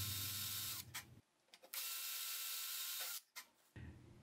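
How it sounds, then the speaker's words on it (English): A drill bores tuning peg holes in the wooden body of a homemade electric guitar built from an old wall clock, giving loud, sustained grinding bursts broken by short pauses and clicks. "Next, I drilled the tuning peg holes."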